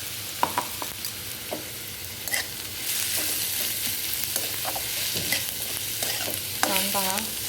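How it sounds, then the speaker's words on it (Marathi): Onion and plenty of cumin sautéing in a pan, a dense close sizzle punctuated by repeated spatula scrapes and clinks, with a short squeaky scrape near the end; no one speaks. "कांदा हा छान ट्रान्सपरंट होईपर्यंत परतून घ्यायचं आहे."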